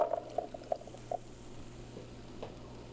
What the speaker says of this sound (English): The black beans, you can just put them right on the blender.